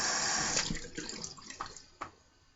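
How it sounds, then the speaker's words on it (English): Running water rinsing clean off a razor at a sink, a close, continuous splashing rush with a few brief drips and gurgles, tapering off near the end. "the water's rinsing clean off the razor like it should"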